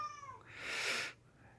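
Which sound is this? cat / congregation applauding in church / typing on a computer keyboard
cat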